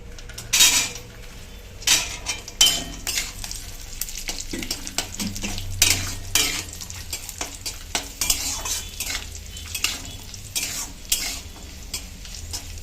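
Cashews and raisins are stirred through hot oil for restaurant-style fried rice, giving a steady sizzle with repeated scraping clinks of a spatula against the pan, up close and with no voices.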